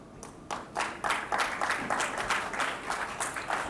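An audience at a 5G launch event breaks into applause, starting with a few scattered claps and building into a full, steady round of clapping that carries on to the end.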